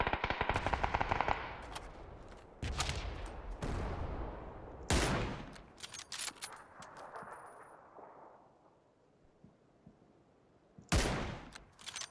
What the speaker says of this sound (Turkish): bana sıkıyor bu adam ya